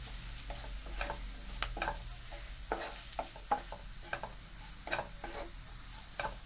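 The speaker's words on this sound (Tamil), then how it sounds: "இது எல்லாத்தையும் சேர்த்து நல்லா மிக்ஸ் பண்ணிக்கோங்க." Mixed spice powders, including chilli, pepper and turmeric powder and masala, stirred in a pan for a vegetable noodle soup; a spoon scrapes and taps repeatedly over a soft, steady sizzle, and no one talks.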